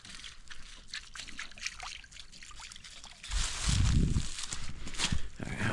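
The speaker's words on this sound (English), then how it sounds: "So yeah, actually plenty of water coming out of that pipe." Water trickles and splashes out of an electric conduit pipe, starting as a faint dribble and swelling into a fuller, louder gushing flow partway through, with no talking.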